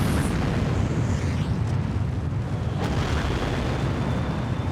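Launch rumble heard from inside a space vehicle as solid rocket boosters pound it, a loud, continuous, deep roaring and shaking with broadband noise and occasional crackles throughout.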